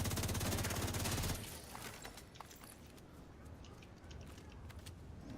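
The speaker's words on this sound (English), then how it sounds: "Hostile artillery turret" An artillery turret fires in The Division 2. A dense, rapid burst of gunfire rattles for just over a second, then fades into scattered clicks and a low rumble.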